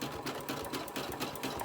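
A sewing machine zigzag stitches across a fabric lanyard, its needle thumping in a fast, even rhythm close by with no talking.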